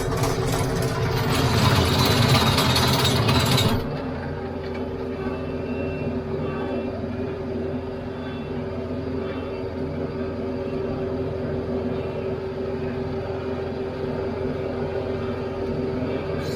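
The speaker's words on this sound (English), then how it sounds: "Got to point the front of the tractor away from the trees so we can get it all tilled." A tractor drives uphill while tilling with a rear tiller, its engine giving a loud, steady drone that is fuller and rougher for the first few seconds and then settles into a constant running rumble, with a brief spoken remark.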